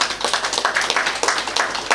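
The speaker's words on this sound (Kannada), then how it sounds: "ಅಪ್ಪಮ್ಮ ಜೋರ ಚಪ್ಪಾಳೆ ಮಾಡಿ." A father and mother clap loudly together at home, celebrating the father's blood sugar returning to normal after therapy. The steady run of sharp, close hand claps lasts about two seconds.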